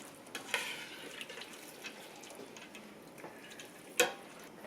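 Meat and fideo noodles are stirred in a pan, with a soft steady sizzle, scattered scraping taps and one sharp clack of the utensil against the pan near the end.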